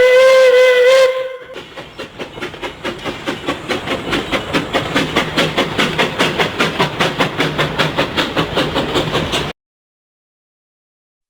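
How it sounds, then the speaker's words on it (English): Steam train opening with a loud, clear whistle blast, then a steady rhythmic chuffing of the locomotive that quickly builds into fast, evenly spaced puffs, continuing close and loud before ending abruptly. "Steam train."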